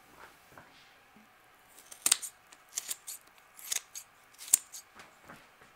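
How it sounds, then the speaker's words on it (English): Scissors snipping through the rib bones of a raw chicken breast during deboning: a series of short, crisp crunching snips at irregular intervals, close and fairly quiet, with no talking. "Using a pair of scissors, simply cut enough of the bone off so that the breast will lay flat while you remove the bone."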